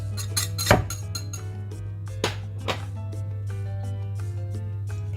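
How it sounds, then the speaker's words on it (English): Dry ingredients go into a bowl for homemade bhaji batter. A spoon clinks and taps against the bowl in scattered, irregular knocks over a constant low hum, with no one talking. "So I'm going to add the dry ingredients that I'd shown you."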